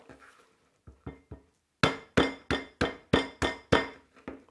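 Lemongrass stalks are pounded to bruise them for chicken kapitan, giving sharp, close knocks: a few light taps, then a steady run of about eight hard, evenly spaced blows.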